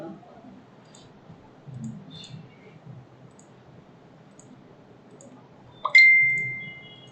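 Computer mouse clicks while working in Civil 3D surface properties: a few faint, sparse taps through most of the clip, then one sharp, louder click near the end followed by a brief ringing tone, over a quiet room hum.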